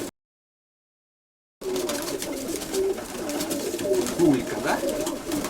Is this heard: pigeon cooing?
yes